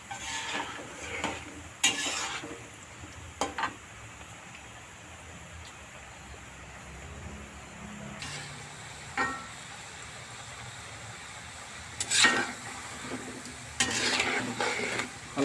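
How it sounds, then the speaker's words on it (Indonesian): Crunchy kletuk-kletuk snack being stirred and fried in a pan, with soft sizzling underneath and irregular scraping clinks of a utensil against the pan at intervals. "Harus terus digoreng-goreng guys, soalnya supaya rata"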